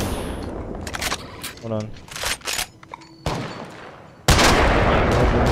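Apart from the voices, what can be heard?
gunfire in the video game Apex Legends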